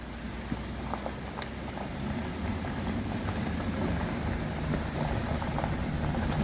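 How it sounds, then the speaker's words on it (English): A small waterfall in a mountain stream near an abandoned Pennsylvania coal town gives a steady, close rush of splashing water that holds even and unbroken throughout, with no voices. "Waterfall."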